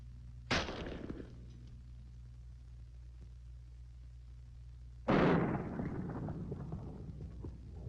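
Two loud shotgun blasts fired at close range into a head of cabbage, the first near the start and the second about four seconds later, each with a sharp crack and a ringing, fading tail.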